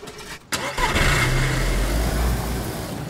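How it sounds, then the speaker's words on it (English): A truck engine turns over and fires at about half a second, then runs at a steady, rumbling idle close by, with no talking. "All right, I'll move my truck."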